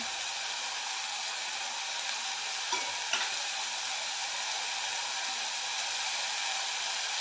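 Chickpeas, potatoes and a green chili stirred in a hot pan give a soft continuous sizzle, with a couple of light spoon scrapes partway through and no voices.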